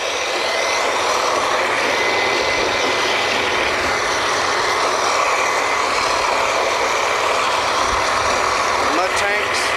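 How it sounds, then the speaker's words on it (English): A drilling rig's mud pump and backup pump run steadily at close range, a loud, dense mechanical roar with constant broadband noise and a low throbbing undertone holding level throughout. "Here's one of the mud pumps and the backup pump."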